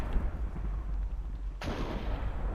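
During a storm, a sudden loud crack of thunder bursts in partway through, after a low rumbling background.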